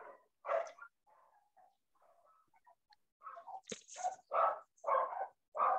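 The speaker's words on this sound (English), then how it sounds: "The dog barking." Dogs bark in short separate bursts, a couple early on, then a rapid run of several barks near the end, with faint quiet sounds between.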